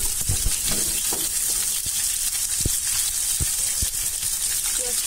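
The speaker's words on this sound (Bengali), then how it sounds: "পেঁয়াজটাকে হালকা ফ্রাই করবো, নরম হয়ে আসছে।" Chopped onions with cloves and cardamom fry in oil in a pot for mint mutton curry, making a steady sizzle broken by sharp clicks and taps of stirring.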